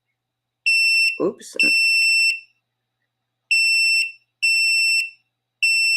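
A diamond tester sounds sharp, high electronic beeps as it touches gemstones: one long tone, a second after a short spoken exclamation, then several more steady beeps spaced apart, loud and close.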